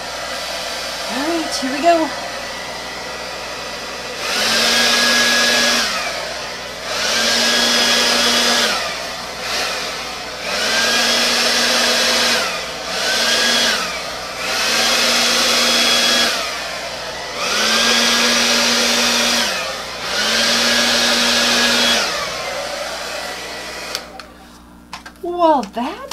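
Hair dryer blowing across metallic acrylic paint in a Dutch pour, running in about six steady bursts of several seconds each with short pauses between, loud and close, with brief talk at the start.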